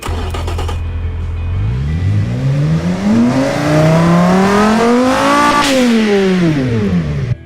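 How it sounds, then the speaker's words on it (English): A car engine on a home build revs up steadily from idle, rising to a high-pitched peak and then dropping back, loud and close with no talking. "Let's try and listen to this engine."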